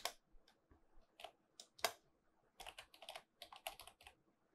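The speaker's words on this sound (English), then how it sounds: "now we're going to type in the directory that we want to store this in" Typing on a computer keyboard while setting up SSL/TLS for Apache on Debian, close quiet clusters of key clicks in irregular bursts with short pauses, one sharper tap standing out, no talking.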